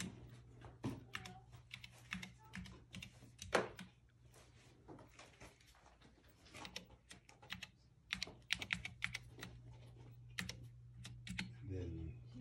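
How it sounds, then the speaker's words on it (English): Typing on the keyboard of an Apple-1 replica computer: irregular bursts of clacking keystrokes, close by, with pauses and a steady low hum underneath, plus brief voices talking now and then. "I'm just going to type a demo."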